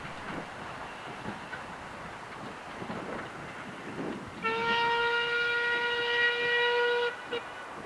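Metropolitan Railway No. 1 steam locomotive and diesel multiple unit 1125 on a local service heading for Alresford, with a faint rolling rumble before a loud multi-tone horn sounds for about three seconds.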